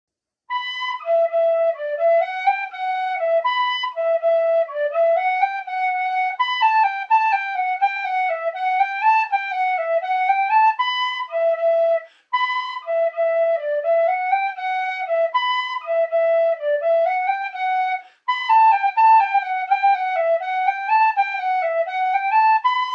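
A tin whistle in C plays a lively folk-style demo tune alone, clear bright notes in a steady melodic run with two brief pauses between phrases.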